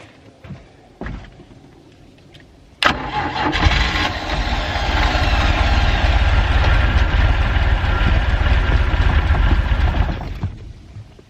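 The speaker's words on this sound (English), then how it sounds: "We got a running boat motor" A 3.0L MerCruiser boat motor catches after a few short cranks and settles into a steady, loud running rumble that holds for several seconds before easing off.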